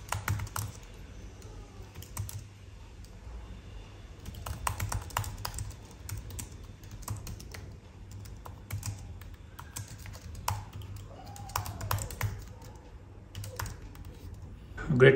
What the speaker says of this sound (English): Let's check if the keyboard is working.